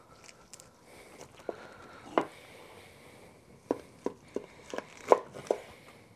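Fork or knife scraping meat off a lemon pepper fried turkey wing in a home kitchen, a series of short scrapes and taps, sparse at first then clustering closer together, moderately close and quiet with no talking.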